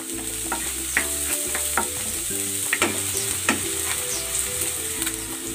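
Onion and garlic sautéing in a pan, a continuous sizzle broken by scattered clinks and scrapes of a utensil against the pan, close and moderate in level.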